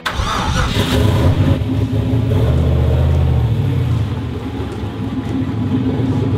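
A 1969 Camaro with a turbocharged LS swap starts and pulls away, its engine a loud, deep, close rumble that swells and then settles into a steady drone.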